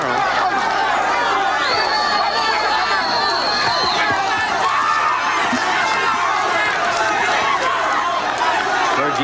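A boxing crowd roaring at a fight between Georgie Navarro and Carlos Romero, a dense, continuous wall of cheering and screaming with shrill whistles cutting through.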